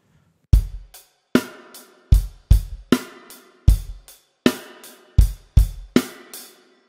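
A drum kit plays a rock beat variation with an extra bass drum hit, sharp kick and snare strikes ringing with cymbal wash in a steady groove. About a dozen punchy hits sound close and loud, with no talking.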